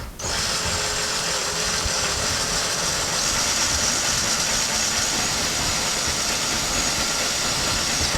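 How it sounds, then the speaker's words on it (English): A power drill bores a small hole into drywall to install a towel hook, giving a steady, loud whirring hiss that holds at an even level from start to finish, with no speech. "Now when you're drilling, make sure you're holding the drill back so you don't bang into the wall when it pops through the drywall."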